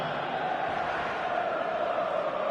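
Dense, steady roar of a large football match-day crowd in a stadium as the teams prepare to kick off, a sustained wall of massed voices without distinct individual words.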